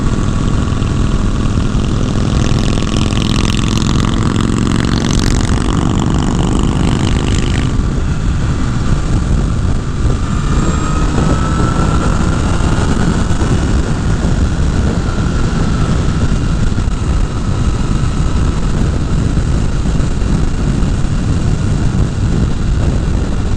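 A Honda CBR 1000 Repsol sport bike is ridden at speed, its engine a loud continuous drone with shifting pitch under heavy wind rush, unbroken throughout.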